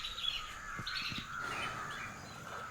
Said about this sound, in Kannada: ಪಕ್ಷಿಗಳು ಸದ್ದು ಮಾಡುತ್ತಾ ತನ್ನ ತನ್ನ ಗೂಡುಗಳಿಗೆ ಹಿಂದಿರುಗುತ್ತಿವೆ.